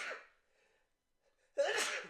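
Two human sneezes, one fading at the start and a sharper, louder one after a near-silent pause.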